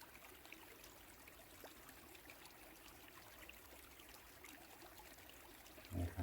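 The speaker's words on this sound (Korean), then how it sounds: "물소리에 집중합니다." A gentle flowing stream trickles steadily and faintly in the background, an even, soft wash of running water with a brief louder knock near the end.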